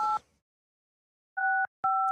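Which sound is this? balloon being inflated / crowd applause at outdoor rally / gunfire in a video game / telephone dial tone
telephone dial tone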